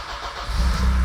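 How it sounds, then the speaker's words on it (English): A BMW E30 M3 convertible engine catches on the starter after a brief crank, then settles into a loud, steady idle rumble close by. "let me start this car, and it does start on the button."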